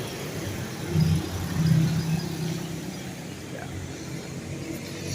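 Highway traffic passes steadily as a continuous engine and tyre roar, with a couple of vehicles swelling louder nearby before the noise settles back to a constant background rumble, and no voices.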